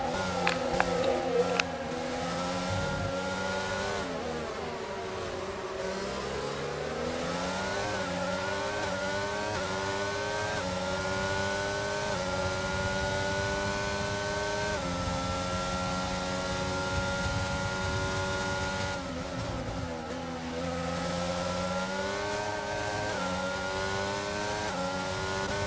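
McLaren and Aston Martin race cars in a racing video game, several engines whining at high revs and shifting pitch continuously through gear changes, steady and fairly close with no talking.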